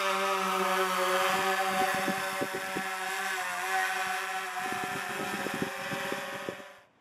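The motors of a DJI Phantom 3 drone spin up for takeoff with a steady, close, high whirring whine that holds evenly, then trails off at the end.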